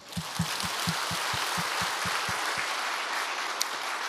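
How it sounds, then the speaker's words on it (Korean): A church congregation claps in thanks to God during a sermon, a steady wash of applause with a few distinct rhythmic claps near the start, fading slightly toward the end. "우리를 구원하신 하나님 앞에 감사의 박수."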